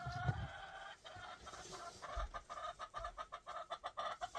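Hens in a cold, snowy countryside farmyard heading into a nesting box to lay eggs, giving soft, rhythmic clucking that grows into a steady pulsing series of calls, close by with no talking.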